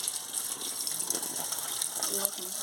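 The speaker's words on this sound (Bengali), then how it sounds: "এবার মাছটা কেটে নিয়েছি এবার ধুয়ে নিচ্ছি" Running water pours steadily over cut stinging catfish being washed in a kitchen, a continuous gushing splash with faint handling sounds, fairly quiet.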